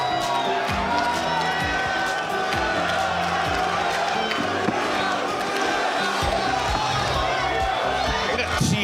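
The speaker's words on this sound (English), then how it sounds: "let's give them a little bit of support cheering" Audience at a live comedy show cheering and shouting, a dense, loud crowd roar with whoops and claps that runs steadily throughout, with a voice talking over it.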